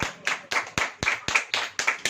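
Congregation in a church clapping hands together in unison, sharp loud claps landing in a steady rhythm about four per second, fairly close and with no talk over them.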